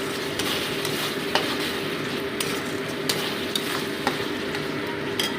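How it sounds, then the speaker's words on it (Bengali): Spice paste with salt and turmeric fries in a pan for chicken curry, giving a steady sizzle with a spoon scraping and stirring and occasional sharp taps against the pan, close and continuous. "ভালো মতো এটাকে 2 মিনিট আরও ভেজে নিচ্ছি আমি।"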